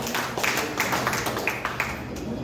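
An audience breaks into applause at a regular green life therapy gathering, a steady patter of many hands clapping at moderate distance, fairly faint and continuous throughout.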